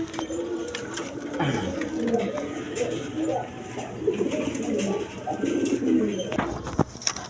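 Two pairs of imported pigeons coo in overlapping, continuous low rolls close by, with some faint background chatter and a sharp knock near the end.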